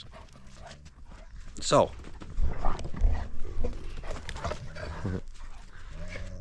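Several dogs play roughly together at close range. Growls, snarls and a sharp yelp rise in short bursts, with a voice talking over them.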